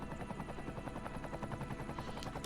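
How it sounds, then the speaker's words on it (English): Helicopter rotor buzzing steadily overhead with a rhythmic chopping pulse, moderately loud and continuous without talk. "there's a helicopter buzzing in my ear"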